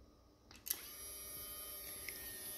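An Instax SQ1 instant camera snaps a selfie: a soft shutter click followed by a steady motorized whir as the print ejects, quiet and close, with no talking.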